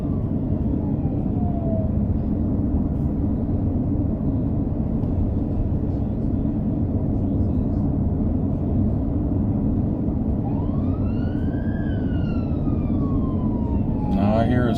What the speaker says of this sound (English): Now I hear a siren.